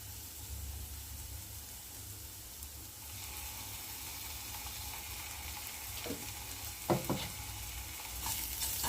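Ginger garlic paste frying with onions in a pan, a low steady sizzle under a hiss, with a few sharper stirring scrapes toward the end.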